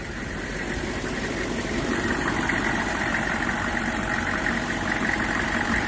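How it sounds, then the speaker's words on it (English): A diesel truck engine idles steadily at close range, a continuous low rumble with a constant mechanical hum and no speech over it. "Sounds like a diesel."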